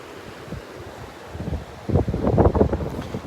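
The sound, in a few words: wind on the beach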